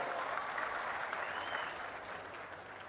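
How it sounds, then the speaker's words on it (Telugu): Dense, steady applause from a large audience at a Narasannapeta public meeting with Chief Minister Chandrababu, continuous and even, fading slightly toward the end. "గట్టిగా చప్పట్లు కొట్టి అందరూ అభినందించాలి"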